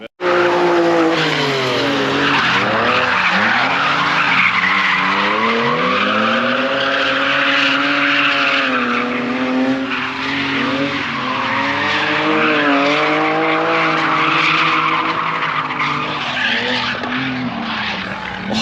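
Tyres squeal continuously as a car drifts through repeated figure-eight loops at Crail Raceway, the engine roaring and the pitch rising and falling with each turn, loud and fairly close.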